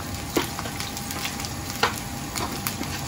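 Onions sizzling in hot cooking oil, a steady bright frying hiss with a few sharp pops and crackles scattered throughout, close and unaccompanied by talk.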